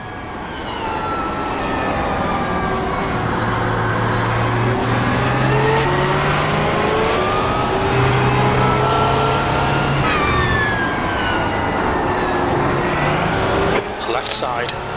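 Race cars lap Indianapolis in the iRacing simulator during an endurance event, engines roaring loud and continuous with rising and falling pitch as they shift gears and pass slower traffic.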